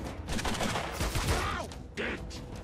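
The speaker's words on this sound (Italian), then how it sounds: "Ok, sparano al nostro tank." Rapid bursts of gunfire in the video game Mutant Year Zero: Road to Eden crackle continuously, loud and dense, with a sharper burst standing out near the end.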